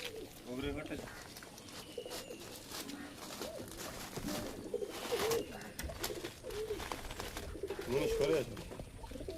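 Pigeons in a loft, kept red-tailed and black-tailed birds, coo softly in a busy, noisy background, with low rolling calls recurring through the clip.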